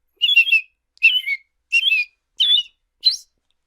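A man whistles an imitation of an American robin's song, five clear warbling phrases evenly spaced with short pauses, bright and close with no talking.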